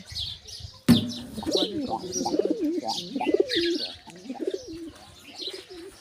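Pigeons coo in soft, rolling warbles close by, with higher chirps mixed in and a sudden sharp knock just before the cooing swells, then gradually eases off.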